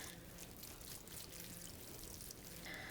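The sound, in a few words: water poured onto transplanted pepper plants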